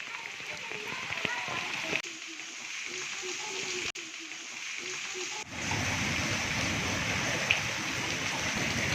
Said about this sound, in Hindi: रात से बारिश शुरू है